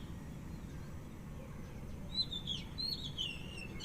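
Faint, thin bird chirps and short twittering calls arrive in the second half over a quiet, low background hum.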